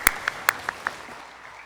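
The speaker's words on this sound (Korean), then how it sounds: "하나님께 영광의 박수를 올려드리겠습니다." A handful of separate hand claps from a church congregation during a Sunday worship service, five sharp claps in the first second, then quiet.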